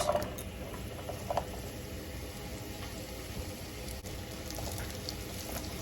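Celery root sautéing in olive oil in a hot skillet gives a steady, close sizzle and bubbling hiss that holds evenly throughout, with no voices.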